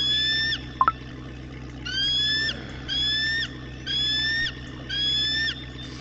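A bird in the Russian Fishing 4 video game calls repeatedly at Kuori Lake, giving five evenly spaced, high, whistled phrases over a steady low ambient lake hum.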